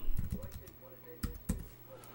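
Someone types on a computer keyboard, entering text: a quick cluster of soft key taps followed by a few sharper isolated strikes, close and moderately loud, with faint room noise between.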